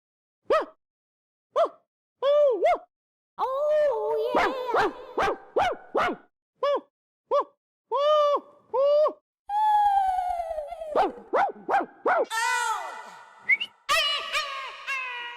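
A dog makes a long run of whimpers, whines and short yelping cries, loud and close. The drawn-out, rising and falling calls come in uneven bursts with brief gaps between them.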